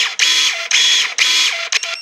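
A Soojook SJ-935 32 mm electric pruner snaps its blade shut in three close mechanical cuts, each a short whirring motor stroke, then a quicker partial closing, all heard alone and up close.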